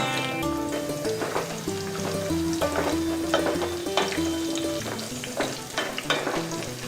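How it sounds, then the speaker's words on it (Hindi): Almonds, pistachios and raisins fry in a pan for a sweet vermicelli dish, giving a steady sizzle with stirring clicks under melodic background music throughout. "बादाम, पिस्ता, किशमिश डाल के थोड़ा फ्राई करें।"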